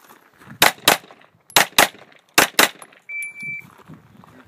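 Gunfire at a shooting range during a timed string, six sharp loud reports in three quick pairs, followed by a brief electronic beep tone and quiet rustling.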